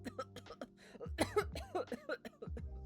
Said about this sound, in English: fall into another short coughing fit